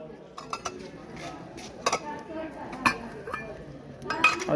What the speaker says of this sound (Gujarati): આ જો વાસણ તો હરખા હરખા હરખા ધોજે